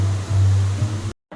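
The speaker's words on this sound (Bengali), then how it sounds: "গাছে জল দিচ্ছি।" Plants being watered on a rainy day give a steady, close, fairly loud hiss of running or sprayed water, which cuts off abruptly after about a second and leaves a brief near-silence.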